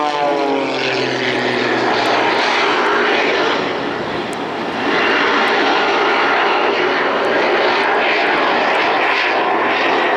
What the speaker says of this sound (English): hearing that jet engine and there's a pits in front of you